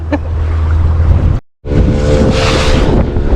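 A small boat pounds over sea waves off the Malvan coast, with heavy wind rush and engine drone, loud and close, cut by a brief gap of silence before the roar resumes.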